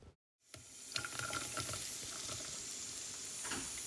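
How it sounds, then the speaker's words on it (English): Oil heating in a frying pan while cooking a buffalo chicken rice bowl gives a steady, moderately faint hiss and sizzle that starts after a brief silence and carries on evenly, with no talking. "get another pan and put some oil on there and let that oil heat up a little bit"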